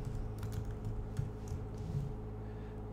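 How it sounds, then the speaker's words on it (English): Typing on a computer keyboard while entering a page title in a web content manager, with soft, fairly steady clicks over a constant low electrical hum and no talk. "So I'm going to type that in."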